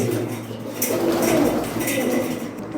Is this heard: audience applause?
no